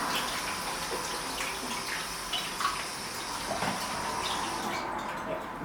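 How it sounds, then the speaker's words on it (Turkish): Hands being washed under a running tap, a steady broadband rush of water pouring into a sink, close and continuous, ending abruptly near the close. "Ellerimizi yıkıyoruz önce."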